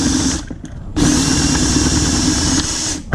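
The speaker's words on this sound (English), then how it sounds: "next I'm going to drill out this rivet that's holding this old wire onto the engine bracket" A power drill whines steadily while drilling out a rivet on a paramotor engine bracket, a short start followed by a longer continuous high-pitched run, close and loud.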